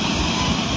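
A loud, steady mechanical whir of an agricultural drone's rotors taking off runs continuously, close by and unchanging.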